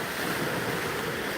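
Rough, high ocean waves churn and crash nearby as steady, loud surf with wind buffeting the microphone, no voices.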